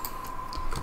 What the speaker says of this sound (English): And let's begin typing our program.